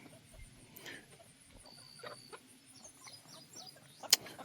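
Backyard chickens and roosters clucking softly at close range, with scattered short calls and chirps and one sharp click near the end.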